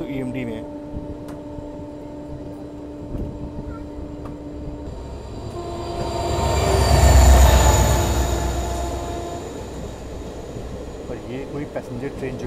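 Train with an EMD diesel locomotive passing in fog, a steady rumble of rolling wagons that swells to a loud, heavy pass around the middle with wheel squeal and a long horn-like tone.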